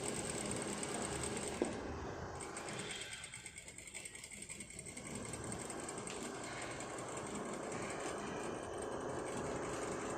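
A sewing machine stitching the shoulder seams of a dress runs in a steady, fast mechanical whir with a brief slowdown partway through, close and continuous, with no voices over it.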